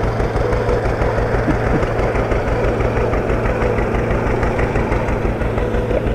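Antique tractor engine idling at the Champlain Valley Antique Gas Engine and Tractor Association's October Plow Day, near a two-furrow plow: a loud, close, steady rhythmic chugging and knocking that runs unbroken, with no talking.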